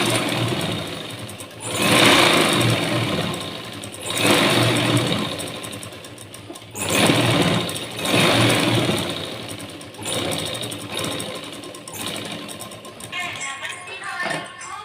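A sewing machine runs in repeated bursts while joining a blouse piece, each run of stitching lasting a second or two with short pauses between, fairly close and steady in volume.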